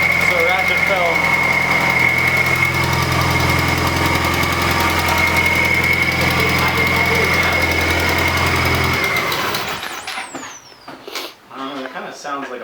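A car engine idles steadily with a faint, rapid ticking from a valve running through the hum, then shuts off near the end, leaving brief clattering and voices.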